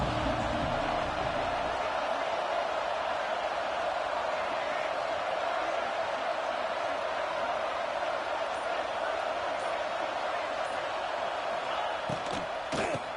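Stadium crowd in the college football video game College Football 26 roars steadily and loudly from start to finish, a dense sustained wash of cheering with a few sharp knocks near the end.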